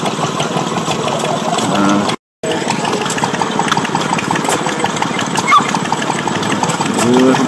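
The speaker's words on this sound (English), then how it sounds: "Just in the cellar motor there, running, pumping water." A vintage stationary cellar motor at a rally runs steadily while pumping water, a continuous mid-pitched engine chug with a constant rhythmic pulse, heard close and fairly loud with a brief dropout partway through.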